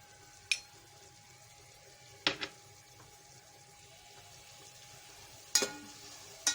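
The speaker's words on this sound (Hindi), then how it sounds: "थोड़ा सा भूनूंगी मैं मसाला" Masala of ginger, green chili and tomato frying in a pan for masoor dal pulao, giving a faint low sizzle with a few sharp clinks of stirring against the pan, no talking.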